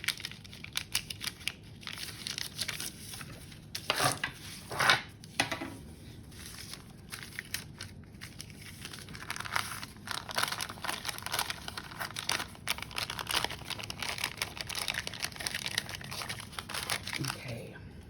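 Paper for junk journal signatures is handled and folded, with close crinkling and rustling in uneven bursts and a few sharper creases, while a person talks over it at times.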